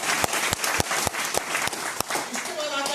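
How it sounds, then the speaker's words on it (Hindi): Audience applause at a business seminar in Delhi, with sharp, evenly spaced claps standing out over a steady wash of crowd clapping, close and loud; a voice comes in near the end. "अपने लिए ताली बजाओ फिर"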